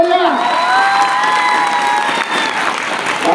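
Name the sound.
school audience applauding and cheering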